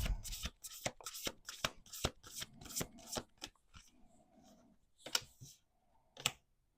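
Crisp riffling and fluttering of a deck of playing cards in a rapid run of shuffles, followed by a few isolated taps and snaps, close and quiet with no talk.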